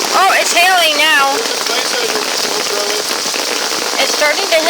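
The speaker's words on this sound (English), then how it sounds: "It's starting to hail, look." Hail pelts down hard in a thunderstorm, a dense continuous patter and crackle of ice striking surfaces close by, with a voice briefly speaking over it at the start.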